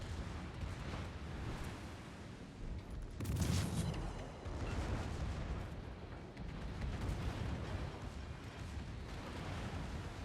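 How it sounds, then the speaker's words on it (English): Torpedo hits in World of Warships, with the premium cruiser Kirov in a co-op match against bots: a loud, broad explosive burst near the middle stands out from a constant roar of distant booming battle noise. "These torpedoes in action. They have some good damage there."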